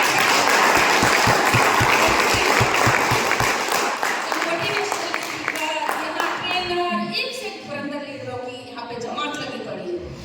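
Loud audience applause for board members at a gathering, with sharp individual claps up front that thin and soften toward the end as voices start talking over the fading clapping.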